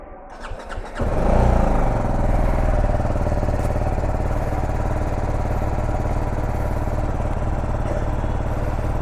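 A motorcycle engine starts up from a brief quieter stretch, then settles into a steady, loud, close idle that runs on alone without any talk.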